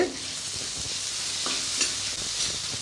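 Tomatoes fry in oil for a pan of veg egg noodles, giving a steady close sizzle broken by a few soft stirring scrapes, with no talk.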